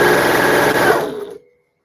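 A sewing machine runs a steady, close top stitch along a patchwork tote bag made from upcycled embroideries, a continuous motor whir that stops abruptly after about a second and a half, leaving silence.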